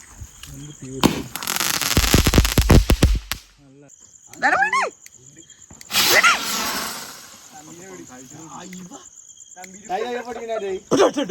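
Firecrackers burst at a Vishu festival celebration, a loud crackling volley of rapid sharp pops lasting a couple of seconds, followed by a few scattered bangs, with people talking and shouting in between.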